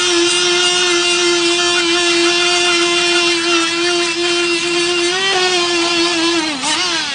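An air grinder spinning a Roloc disc cleans an engine block, a loud, steady high-pitched whine that holds nearly constant and dips slightly under load near the end.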